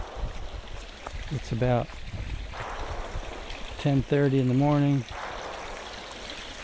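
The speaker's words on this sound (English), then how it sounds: "Here we are, the nice little water crossing." A stream at a water crossing on the Appalachian Trail in the Cumberland Valley gives a steady, close rushing and trickling wash, with someone talking briefly over it.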